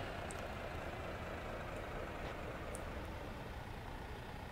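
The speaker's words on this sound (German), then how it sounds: "der ist jetzt im Leerlauf" A truck idles out of gear in the truck simulator game On the Road, giving a steady, even engine drone that stays unchanged throughout, quiet and with no talking.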